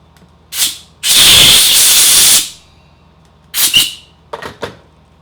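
Compressed air blasting out a threaded hole in a homemade camshaft installation tool made from a cut bolt: a short puff, a loud sustained hiss of about a second and a half, then several brief sharp bursts, close and alone.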